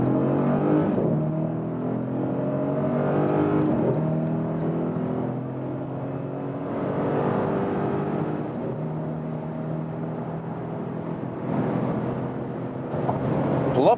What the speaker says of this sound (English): wow, that was amazing power of that V8 engine